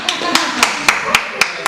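A crowd honours the club chairwoman with steady, rhythmic clapping: seven sharp, evenly spaced claps in unison over less than two seconds, close and fairly loud.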